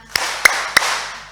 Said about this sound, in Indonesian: Kalau kau senang hati tepuk tangan.